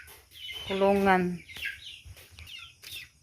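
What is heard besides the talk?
chicks peeping while being moved to their cage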